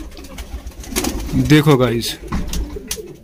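Pigeons kept by a fancier coo close by in a soft rolling call while someone speaks briefly over them.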